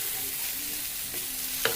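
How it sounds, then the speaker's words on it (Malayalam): Food fries in a pan with little oil, giving a steady close sizzle with a light stir or scrape near the end and no talking. "ഞാൻ പിന്നെ ഫ്രൈ പാനിൽ കൂടുതൽ എണ്ണ ഒന്നും ഇല്ലാണ്ട് ഇങ്ങനെ ചുട്ടെടുത്ത മാതിരിയാക്കുന്നതാണ്"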